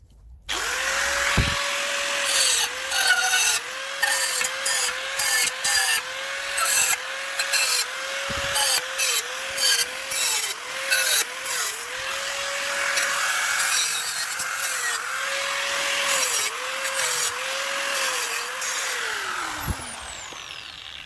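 A cutting disc grinds on metal during a 1975 Suzuki GT185 motorcycle restoration, a loud continuous whine with a wavering pitch that rises and dips repeatedly, harsh scraping noise throughout and a few sharp knocks.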